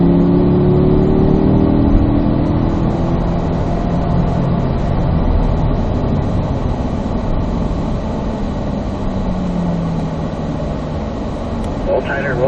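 A Corvette Z06 engine on a race track, a loud, steady, close drone that holds through most of the stretch and eases slightly toward the end, with a voice talking over it.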